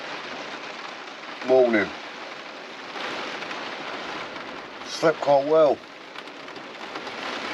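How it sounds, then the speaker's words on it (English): Heavy rain drums steadily on the roof of a VW T4 van with gusty wind, a constant close hiss, while a person speaks briefly twice. "As you can hear, heavy wind and rain all night."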